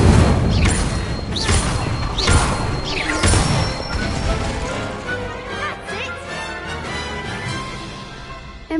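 Incendio fire spell cast in Hogwarts Legacy, loud whooshing bursts and crackling booms repeating through the first half, then trailing into quieter game sounds.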